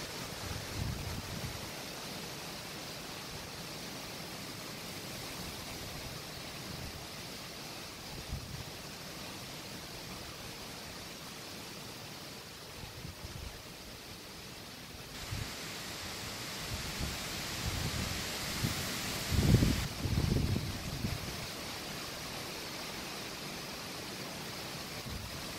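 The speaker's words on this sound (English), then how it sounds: "It's good and windy." Strong gusting wind roars through a night thunderstorm, a broad steady rush that swells louder in the second half with a few low buffeting thumps near the end.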